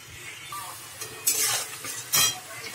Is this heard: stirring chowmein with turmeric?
yes